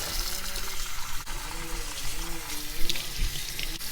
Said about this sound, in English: Turn off the tap.